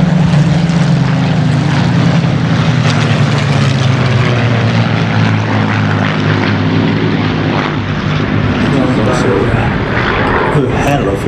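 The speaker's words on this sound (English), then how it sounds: "The Griffin, flown by the pilot, Mr. Schofield." A Griffin propeller aircraft drones loudly and steadily overhead, its engine tone sliding slowly lower as it passes, with a voice speaking over it.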